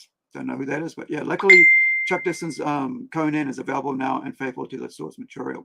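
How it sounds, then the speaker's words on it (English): A phone gives a brief notification ding once, as a clear sustained tone under a man's ongoing conversational speech. "Sorry about my phone that's texting away."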